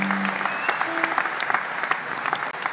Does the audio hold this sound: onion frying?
no